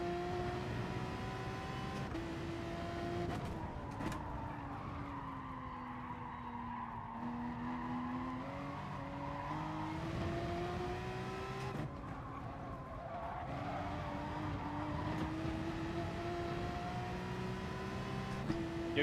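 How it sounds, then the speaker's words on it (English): Porsche race car in the Gran Turismo Sport racing game, its engine droning and rising and falling through gear changes for the whole stretch, with tyre skids and squeals mixed in and no talk over it. "It's driving like the Porsche, so I'm guessing it's a Porsche. Sounds like the Porsche as well."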